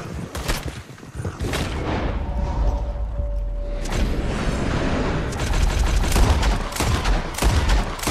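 Sustained gunfire from a Western shootout in Red Dead Redemption, dense overlapping shots and booming reports throughout, loud and near with a brief lull before the firing intensifies again.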